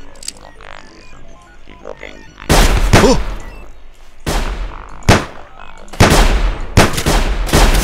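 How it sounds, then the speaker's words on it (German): Enemies in the survival game Sir, You Are Being Hunted shoot each other, producing close, heavy gunshots and booming blasts. They come in separate loud bursts after a quieter opening. "Die haben sich selbst über den Haufen geschossen, die Idioten."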